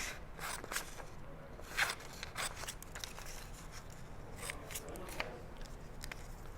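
Scissors cutting out a paper pattern template for a dartless bodice, giving repeated crisp snips and scrapes close by with a quiet background.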